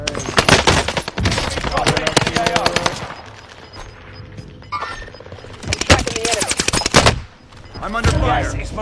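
Rapid machine gun bursts in a battle royale video game rattle loud and close, broken by quieter gaps and shattering impacts, with a voice talking between the volleys.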